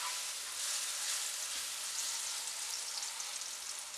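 Banana and coconut fry in a pan for a sweet stuffed idiyappam filling, a steady close hiss and sizzle running the whole time without pause and with no talking.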